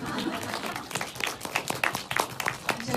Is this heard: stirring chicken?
no